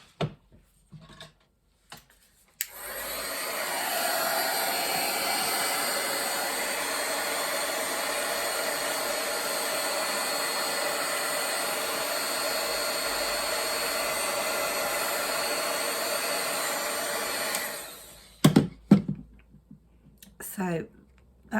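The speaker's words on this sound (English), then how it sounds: "I'm going to dry that with a heat gun." A heat gun drying paint on a craft tag, switched on after a few clicks and blowing a loud steady whooshing roar for about fifteen seconds before cutting off, followed by handling clicks.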